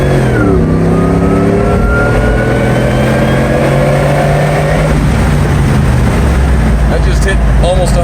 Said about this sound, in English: What's cool too is the sound of the supercharger.